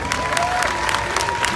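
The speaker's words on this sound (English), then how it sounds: "Let's give Amelia a round of applause." A crowd at a fashion expo in Cleveland, Ohio claps and cheers for a hair colorist, with dense, continuous applause filling the whole moment.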